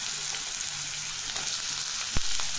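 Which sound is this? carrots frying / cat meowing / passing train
carrots frying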